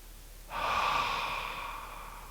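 A deep, slow yogic breath at the end of a live vinyasa class, a soft airy inhale swelling from quiet and then easing into a long, steady exhale, close to the mic with no talking over it.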